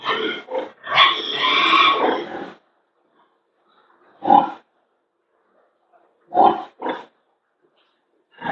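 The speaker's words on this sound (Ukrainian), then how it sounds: "Зранку відлучили наших поросяток." Freshly weaned piglets on a village farm grunt in short rough bursts, first a longer cluster, then scattered single and paired grunts separated by quiet gaps, fairly close.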